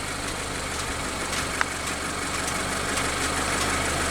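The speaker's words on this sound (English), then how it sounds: "That noise you hear is the car engine." A car engine idles steadily on a mountain road trip, a constant low rumble with faint road noise and a single brief click partway through.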